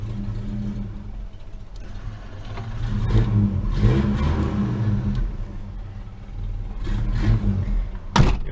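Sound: car engine revving after intake repair

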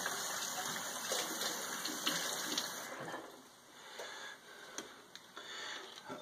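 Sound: rinsing a hydrometer with water

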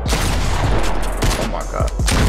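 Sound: gunshots in a video game

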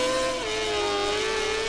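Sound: motorcycle engine revving in video game MotoGP 17

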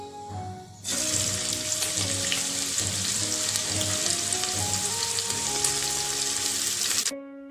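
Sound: chopped onions frying in hot oil

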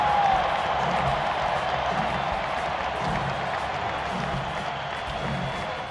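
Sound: crowd ovation for Chipper Jones at baseball game

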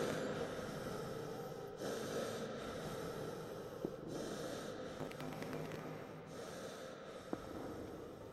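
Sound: heavy disgusting breathing of a creature in video game Astray

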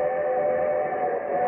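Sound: train sound effect

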